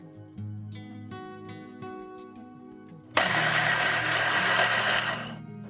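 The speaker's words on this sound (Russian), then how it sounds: "Когда корж остыл, измельчу его в блендере в крошку." A blender grinds a cooled chocolate cake layer into crumbs, starting with a quiet hum, then bursting into a loud, steady whirring roar that runs for a couple of seconds before stopping.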